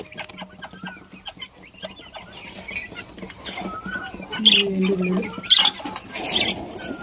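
Chickens and other fowl cluck and call intermittently around a backyard coop with caged birds, growing louder and busier toward the end, with a voice speaking faintly nearby.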